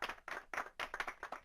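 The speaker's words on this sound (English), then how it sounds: "polite applause. The pond is a golf clap." Polite, light golf clapping from the video game Tingle's Rosy Rupeeland in several short bursts, a small group applauding briefly and evenly without any voices.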